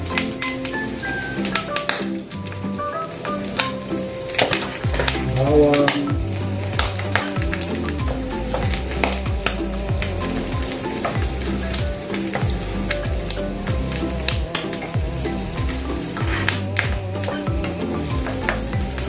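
Garlic frying in hot oil for pancit, a steady close sizzle with occasional taps and clinks of a utensil against the pan, no voices over it.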